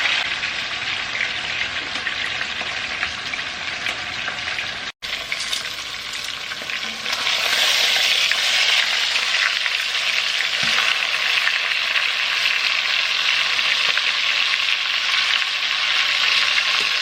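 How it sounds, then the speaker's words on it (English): Meat roast searing in hot oil in a pot, a loud, continuous close sizzle and crackle with a brief break before it swells even fuller and steadier. "now that we have gotten a nice sear on both sides of the roast"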